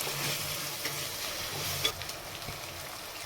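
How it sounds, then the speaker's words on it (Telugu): Coriander powder stirred into hot oil in a frying pan for boti curry: a soft, continuous sizzle with a few light scrapes of a spoon against the pan, faint and close. "వేసుకొని ఈ విధంగా అయితే బాగా కలుపుకోవాలన్నమాట"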